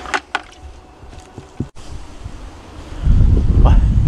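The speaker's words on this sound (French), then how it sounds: "Désolé pour le vent." Wind buffets an outdoor microphone in a garden, a rumbling low roar that swells louder toward the end, with a few faint voices and clicks underneath.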